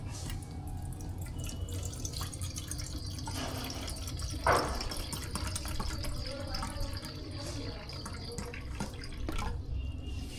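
Plain water is poured into a mould for the base of an ice Shivling, a faint continuous trickle and drip with a brief louder splash midway, set against low room hum.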